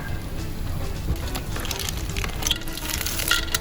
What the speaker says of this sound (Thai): จากนั้นใส่หอยขาวหรือหอยตลับลงไปผัดนะคะ